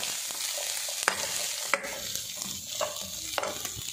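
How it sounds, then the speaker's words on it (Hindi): Vegetable samosa filling with capsicum, chickpeas and potato is stirred in a pan, a spoon scraping and clicking at an irregular pace over a steady background sizzle of frying. "साथ ही इसके मैं डाल दूंगी चने जो मैंने लिए थे, ठीक है, ये भी डाल दूंगी और इसे अच्छे से मिक्स करूंगी"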